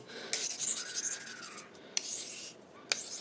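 Steady rasping scrape of a blade drawn over a new sharpening stone such as Washita, Llyn Idwal or Dalmore blue, repeated strokes with a few sharp clicks, close and fairly quiet.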